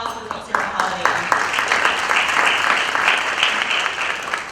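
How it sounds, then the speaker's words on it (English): Applause from a luncheon crowd at a nonprofit awards event in a Holiday Inn, a steady wash of many hands clapping that holds for several seconds, with some voices mixed in. "Let's give a quick round of applause for folks here at Holiday Inn."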